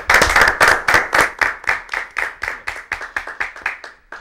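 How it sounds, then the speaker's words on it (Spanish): An audience claps for young congressional candidates at a public dialogue: loud, close, rhythmic group claps that fall into a steady beat of roughly twenty strokes, slowing and softening a little toward the end. "un aplauso para todos ellos"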